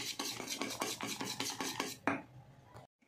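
Gram flour (besan) batter with vinegar is whisked quickly in a bowl, making a run of rapid, rhythmic close scraping strokes that stop abruptly near the end, followed by a short pause.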